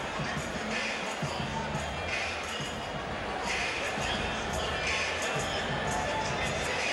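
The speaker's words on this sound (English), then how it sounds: "huge crowd on hand to see our main event" A large boxing crowd at Freedom Hall in Louisville, Kentucky, gathered for a Mike Tyson main event, a steady roar of murmuring and cheering that fills the arena while a commentator talks over it.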